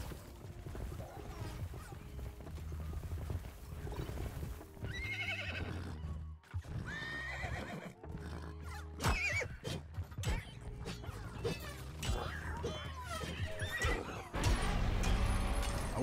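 Horse in the video game Minecraft Legends neighing and whinnying repeatedly over clip-clopping hooves, with a busy, loud mix of other game sounds throughout.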